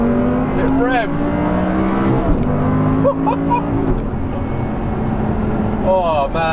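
Audi R8 with a naturally aspirated engine revving freely while driving, a loud sustained engine note rising and falling with brief pitch sweeps, under a person's voice.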